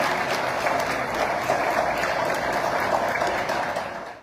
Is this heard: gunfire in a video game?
no